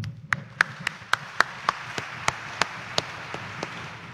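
A congregation at a Quiapo Church mass claps in steady unison, about a dozen crisp claps in a regular rhythm, close and distinct over a quiet room.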